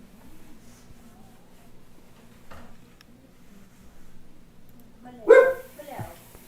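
Dogs bark in a short burst near the end, loud and close, following a quieter stretch of background noise and faint voices on the road trip before a race.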